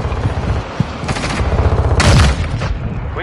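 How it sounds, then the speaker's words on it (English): A battle in a military shooter game, with rapid automatic fire rattling close and loud alongside heavy booms, and a sharper burst of gunfire swelling near the end. "They're shooting everything."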